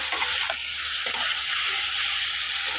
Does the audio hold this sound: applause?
no